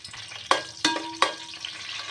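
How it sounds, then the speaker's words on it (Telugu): Green chillies sizzle in hot oil in a pan for a tomato paneer curry. A close, bright crackle carries three sharp metallic clinks of a spoon against the pan, with no voices. "ఇప్పుడైతే నేను పచ్చిమిరపకాయలు వేస్తున్నాను"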